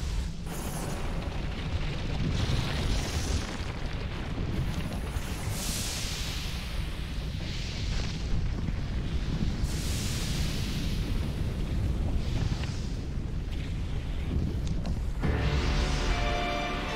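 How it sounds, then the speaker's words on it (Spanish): Big Bang style explosion from the ending cutscene of Super Mario Galaxy, a long, sustained roaring rumble with repeated swelling bursts and booms, loud and continuous throughout. "esta explosión estilo Big Bang que ocurre al final del juego"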